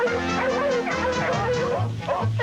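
Cartoon sled dogs bark and yip in a quick run of short, close barks over a dense backing of music and sound effects, with a low whimper-like tone near the end.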